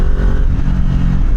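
Kawasaki Ninja 400 motorcycle with a 400cc engine snaps through a loud, close rev as it pulls out of a parking lot, a brief rising engine burst with no talk.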